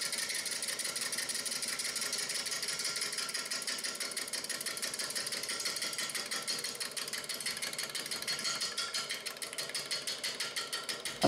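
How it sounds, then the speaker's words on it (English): Wood lathe turning a natural edge crotch bowl, a continuous fast chattering buzz of the tool hitting wood and air as the blank spins, steady and moderately loud throughout. "as we get farther and farther from the center, we are turning more air and the sound becomes more interrupted"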